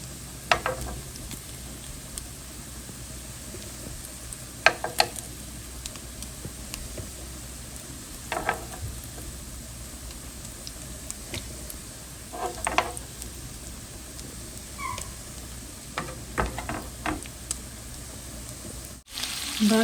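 Remaining chicken pieces fry in a home-kitchen pan with a steady, soft sizzle, punctuated by occasional louder pops and crackles over about twenty seconds.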